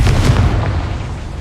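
A Confringo fire spell blasts in Hogwarts Legacy inside a goblin mine, giving one loud, close, rumbling boom that fades over about a second and a half, with no talking.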